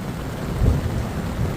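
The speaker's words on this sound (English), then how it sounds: "We got lightning, we got thunder," Heavy rain pours steadily during a Christmas Day supercell storm in New South Wales, with a deep rumble of thunder swelling in the middle of the short stretch; no one speaks.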